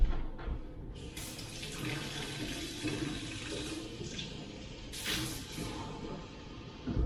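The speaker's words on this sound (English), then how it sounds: "I got this water. It's actually cooled off a little bit. I need to warm it up just a tish." Water running from a kitchen tap, a steady close splashing gush into the sink with brief surges, shifts in flow and a short pause near the end, no talk.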